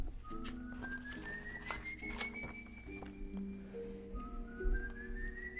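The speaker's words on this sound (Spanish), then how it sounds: "los silbidos que estamos escuchando de fondo" Eerie, ghostly whistles of the legendary El Silbón rise in long gliding tones over a low, steady background drone, faint and echoing throughout.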